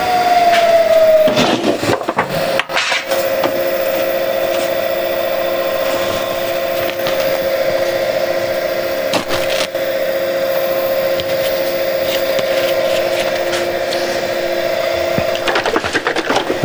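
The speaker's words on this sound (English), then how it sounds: "Okay, so I can sand the inside." A power sander working over the inside of a wooden box, a steady close motor whir with a sustained tone that holds almost unbroken from start to finish, with a few brief scuffs where the tool shifts.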